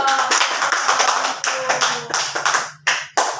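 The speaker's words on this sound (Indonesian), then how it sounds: "Tepuk tangan dulu dong" A classroom of schoolchildren clapping together in short rhythmic bursts, loud and close, with brief pauses between the rounds and faint voices underneath.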